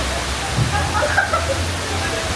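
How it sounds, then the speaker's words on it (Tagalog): Heavy rain pours down in Tagaytay, a steady broadband roar of water filling the whole clip with a low rumble underneath, loud and continuous, with a faint voice mixed in. "Grabe na po ang ulan dito."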